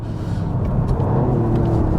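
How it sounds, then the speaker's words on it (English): A Toyota GR Yaris engine rumbles close by, its revs dropping and settling as the gear changes down, steady and fairly loud with no talking. "that was the car doing that change down"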